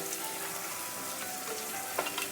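Thinly sliced long strips of onion cook in a pan with a little oil, making a quiet, steady frying crackle with small pops and no speech.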